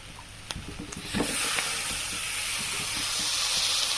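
Eggplant tipped into a hot pan of peanuts and garlic, a few sharp clatters giving way to a loud, steady hiss and sizzle that fills the rest of the moment, with no voices.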